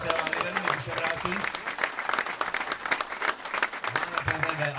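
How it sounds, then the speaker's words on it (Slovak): Audience applause at a live stage show, a dense, steady wash of many hands clapping that stays loud throughout the short stretch. "Jeden potlesk ešte pre Bouša"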